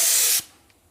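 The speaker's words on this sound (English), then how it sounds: "That's a pretty large spray pattern." Sagola 3300 GTO paint spray gun firing at 20 PSI from about six inches, a loud close hiss of atomized spray lasting under half a second, then cutting off to near silence.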